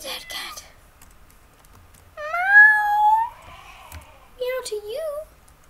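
A cat meowing in the Minecraft modded survival game, two drawn-out mews heard clearly and close over quiet keyboard typing.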